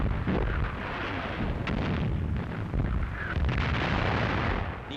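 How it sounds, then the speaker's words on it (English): Enemy artillery shells bursting among advancing German infantry, engineers and tanks in WWII Eastern Front documentary footage, a dense continuous rumble of loud blasts and crackling impacts throughout, with no speech. "Die Granaten der feindlichen Artillerie schlagen zwischen den vorgehenden Verbänden ein."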